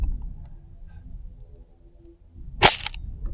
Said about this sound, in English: And we're going to try a few shots here, see what we get.